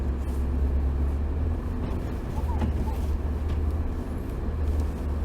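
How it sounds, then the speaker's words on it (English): Mercedes W211 E63 AMG on all-season tires heard from inside during a snowstorm, with a steady low engine drone and road rumble throughout, and no clear wheelspin burst. "spin the wheels one more time over there"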